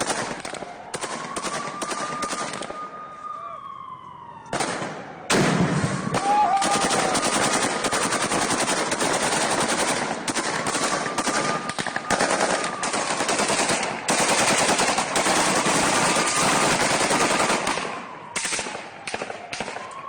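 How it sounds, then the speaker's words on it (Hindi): Sustained bursts of automatic gunfire from Ukrainian soldiers firing on houses rattle loudly and almost continuously, with short pauses between long rapid volleys. "अब घरों पर गोलियां बरसाते हुए यूक्रेनी सैनिक भी नजर आ रहे हैं।"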